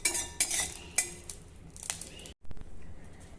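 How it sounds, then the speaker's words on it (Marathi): Green chillies roasting in a little oil in a pan for sesame chutney, with sharp metal clinks and scrapes of a utensil against the pan over a faint background sizzle, a brief drop to silence midway. "यावर थोडं तेल घालू आणि हिरवी मिरची छान खरपूस भाजून घेऊ।"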